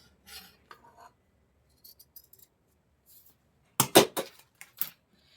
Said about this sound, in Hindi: और अब इसको हम यहां से आर्म होल की भी कटिंग कर लेंगे।